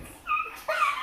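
A dog whimpers in two short, high, nasal cries with a brief pause between them, close and alone.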